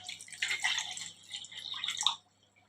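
Water from a cup pours into a semolina and curd batter for an instant breakfast, a close, bubbly trickling splash lasting about two seconds before stopping abruptly.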